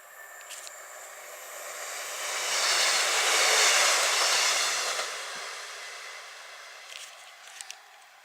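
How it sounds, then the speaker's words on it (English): A train passes along the coast at a distance, its broad rumbling rush swelling to a peak mid-clip and fading away, with faint clicks near the end. "here's another train, but where's it coming from?"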